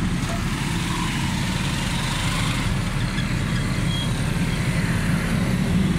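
A Suzuki Alto 1000cc car engine with a fuel pickup and misfiring problem runs steadily up close, its low, even drone holding for the full six seconds with no talk over it.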